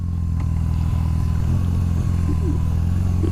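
BMW R1100 RS motorcycle boxer engine idling steadily and close, a loud continuous low rumble with a rapid even pulse and faint mechanical clatter, heard alone throughout.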